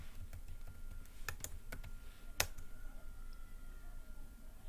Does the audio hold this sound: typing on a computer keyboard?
yes